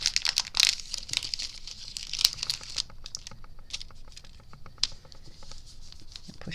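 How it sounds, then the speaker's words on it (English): An adhesive backing strip is peeled off a handmade shaker card, making a run of soft crinkling, tearing paper rustles with brief sharp crackles, close up and quiet, with no one talking. "I'm going to peel this little strip off while holding it in place"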